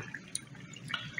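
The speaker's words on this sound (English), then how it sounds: "See the water flowing?" Water trickling and dripping from an air-lift tube in a Fluval Flex 9 aquarium set up for a betta, soft gurgles and small splashes with bubbly pops, close and quiet.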